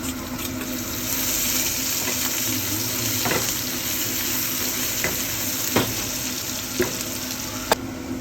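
Browned onions and chopped ginger frying in a pan for a tilapia fish pilau hiss steadily, with occasional light taps of a spatula against the pan.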